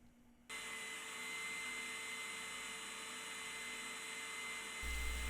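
A scroll saw cutting intricate wooden doll cradle parts from 2x4 lumber starts up after a brief pause, then runs as a steady, even motor whine and buzz throughout, close by and without speech.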